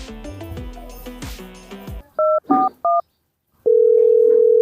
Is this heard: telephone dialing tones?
yes